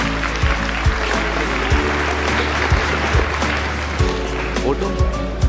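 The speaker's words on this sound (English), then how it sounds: "A round of applause for the captain and vice captain." A school audience at a felicitation and prize distribution ceremony applauds the house captain and vice captain, loud, sustained clapping with a few sharper claps standing out.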